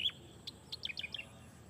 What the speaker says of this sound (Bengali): দেখেন কি সুন্দর পাখির ডাক